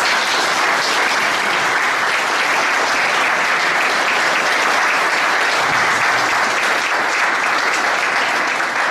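A congregation at a memorial mass for Italian soldiers fallen in Afghanistan, in Monte Sant'Angelo, gives loud, sustained applause that holds steady as a dense roar for several seconds.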